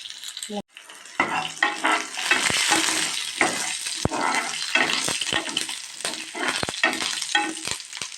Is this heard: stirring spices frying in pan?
yes